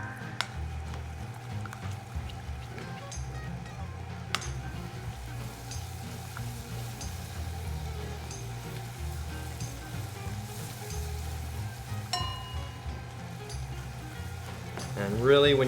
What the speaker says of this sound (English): So we're gonna melt the butter.